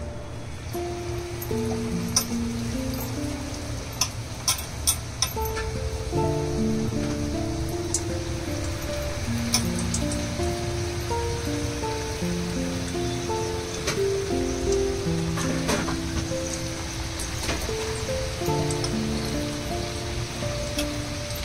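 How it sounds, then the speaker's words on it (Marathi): Bhaji fritters frying in hot oil, a steady close crackling hiss with sharp pops and spits over the 21 seconds. A low, faint background hum runs beneath it, and nobody talks. "तापलंय तेल. आता भजी सोडूया."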